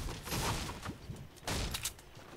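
Gunfire in the Fortnite video game: a few rapid bursts of shots, a cluster early and another around the middle, moderately loud against game background noise.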